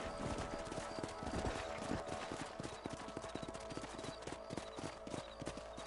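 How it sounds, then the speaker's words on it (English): Horse hooves clip-clop in the Western video game Red Dead Redemption, a quick, steady run of hoof strikes on hard ground with a faint neigh, heard in a quiet mix behind other game sound. "Let's get back on the horses and see what else is going on."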